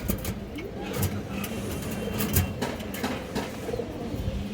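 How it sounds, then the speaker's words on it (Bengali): Low, soft cooing from a large male Indian Kaldom pigeon, repeated murmurs blending into a busy background with other birds and distant traffic noise. "একটা ইন্ডিয়ান কালদম বড় সাইজের নর কবুতর আছে"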